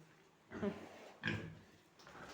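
Pigs grunt in a few short, throaty bursts spaced about a second apart, moderately close on a household farm, with quiet stretches between.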